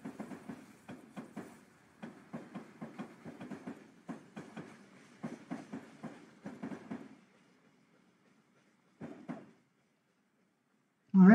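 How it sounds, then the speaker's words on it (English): Union Pacific 1989 locomotive train rolling in Train Simulator 2021 on the Kansas City to Topeka route, wheels clicking over rail joints in steady rhythmic bursts, then fading to near quiet before a brief final clack. "our train is coming up to the switch up here"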